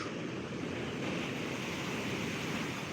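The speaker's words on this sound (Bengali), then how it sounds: "দেখতেই পাচ্ছেন অবশ্যই ঢেউয়ের দাপট কীরকমভাবে রয়েছে দীঘার সমুদ্র সৈকত" Ocean waves roar and wash onto the beach at Digha in rough sea, a continuous, rumbling surge, with wind buffeting the microphone and no voices.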